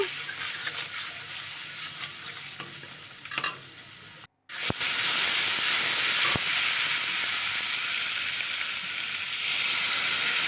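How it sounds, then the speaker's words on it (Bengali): Spice paste fries in a pan with salt and turmeric for a baby-potato dum curry, giving a loud, steady close sizzle and hiss. A few stirring knocks come first, then a brief gap, then the sizzle swells and holds to the end. "এবার মশলার ভেতরে সামান্য নুন হলুদ দিয়ে দিলাম এবার বেশ একটু ভাজা ভাজা করে নেব"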